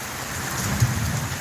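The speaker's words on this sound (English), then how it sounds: "Another rainy event here." Steady rain falling during a rainy spell, a continuous wash of drops on surfaces with a brief low thump near the middle that may be distant thunder, no talking.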